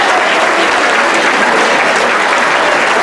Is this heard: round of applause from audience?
yes